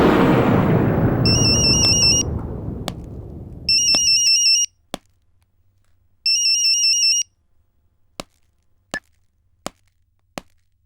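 A mobile phone ringtone repeats three times in short electronic bursts after a loud crash-like sound fades, with scattered sharp clicks following in a quiet room setting of a Tamil TV drama.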